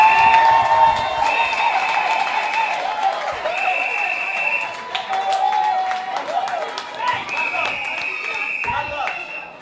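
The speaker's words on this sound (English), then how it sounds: "Give him a hearty, rousing round of applause." A crowd at an evening town hall rally in Castries South East applauds and cheers for an incoming speaker, the scattered clapping mixed with sustained, shrill horn- or whistle-like tones and loud crowd voices throughout.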